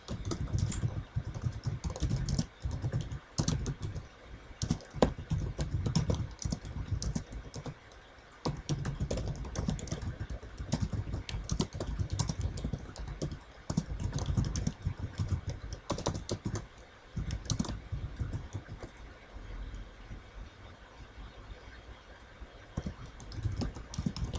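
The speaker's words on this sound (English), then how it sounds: "It would probably just be easier if I typed this stuff." Fast, steady typing on a computer keyboard, dense clicking keystrokes in continuous bursts with brief pauses, close and clear, no talking.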